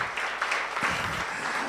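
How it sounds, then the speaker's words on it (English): An audience at a township entrepreneurs' event in Daveyton applauds with steady, dense clapping that fills the whole moment, close and sustained without a break. "A big round of applause to Mr. Balabala."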